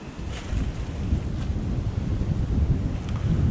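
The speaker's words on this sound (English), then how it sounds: "The wind's still blowing pretty good." Gusting wind at a rifle deer camp roars across the microphone in steady buffeting surges, loud and close, with no voices.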